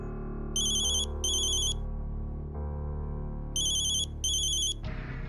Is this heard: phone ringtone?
yes